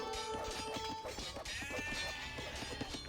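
In the video game Age of Empires 2, sheep bleat amid busy game effects, with clopping and a dense layer of background noise running throughout.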